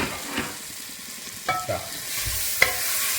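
Ginger, green chili and garlic paste being stirred and sautéed in a pan for a beef bone curry, with a soft steady sizzle and a few scraping spoon knocks, close and alone.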